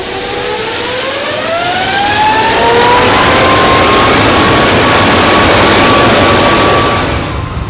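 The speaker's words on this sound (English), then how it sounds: "the throttles are opened and the engine brought to its full," An Airbus A380 jet engine roars at full throttle during a blade-off test, a loud rising whine that swells into a sustained, powerful roar heard from inside a nearby building before tapering at the end.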